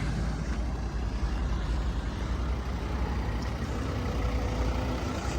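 A 2012 Volvo V50 D3 diesel with Aisin automatic gearbox idles at close range, a steady low diesel rumble with even clatter and no voices.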